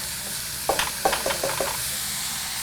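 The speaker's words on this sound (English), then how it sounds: "The onions are brown, so I'm going to go ahead and dump the cherries in." Cherries tipped into a pan of browned onions, a brief run of knocking thuds and spatters as they land, over a steady sizzling hiss.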